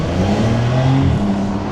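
A car engine pulls hard under acceleration, close and loud, with a steady low growl that rises in pitch and holds for nearly two seconds.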